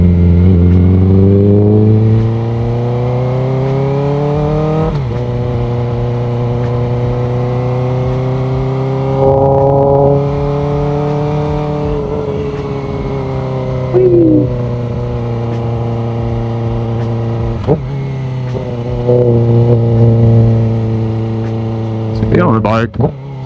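Motorcycle engine riding through downtown Huntsville, a steady mid-pitched drone that rises and falls through repeated gear changes and revs, close and loud throughout the ride.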